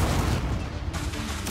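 Incendio fire spell cast in Hogwarts Legacy, a dense, loud burst of crackling, booming roar that fills the whole short moment with no speech.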